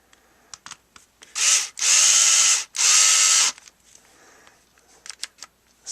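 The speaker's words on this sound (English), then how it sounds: "Set our clutch pretty light because we don't want to strip out any screws." A Ryobi HP53L Tek4 lithium-powered screwdriver runs in three short loud bursts, driving screws with the clutch set light, with faint clicks and handling noises before and after.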